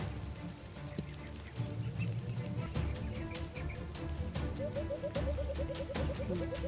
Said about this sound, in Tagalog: tumutunog na yung mga ibon dito